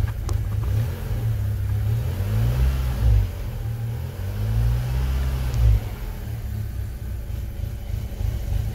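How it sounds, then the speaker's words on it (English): Volkswagen MK5 GTI engine blipped under the throttle, a low steady rumble swelling into a few moderate revs and settling back, close and continuous with no talking. "let me touch the gas"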